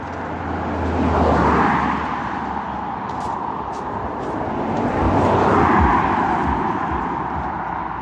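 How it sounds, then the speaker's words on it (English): Two cars swell up and fade away as they pass along a road near a forest walk, each carrying a low, booming bass thump beneath the rushing tyre and engine noise. "I hate when cars come back with music come past."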